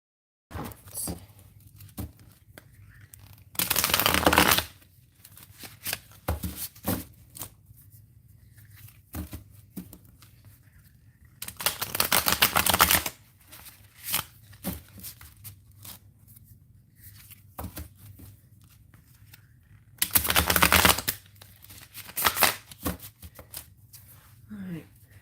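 Tarot cards being shuffled during a live reading: three separate bursts of crisp riffling, each lasting about a second, spaced several seconds apart with soft handling taps between them and a low steady hum underneath.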